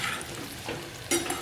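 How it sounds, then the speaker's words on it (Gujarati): Raw banana pieces frying in oil for a Gujarati sabzi, a soft, steady sizzle with light stirring bursts near the end, close and without speech. "આપણે થોડાક આને આ રીતે તળી લેવાના છે।"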